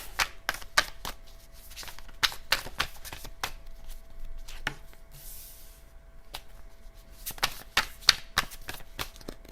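Tarot cards are shuffled and handled up close, with quick crisp riffles, slaps and soft snaps in irregular bursts, some faint rustling between them.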